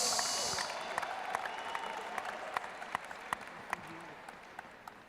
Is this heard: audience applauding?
yes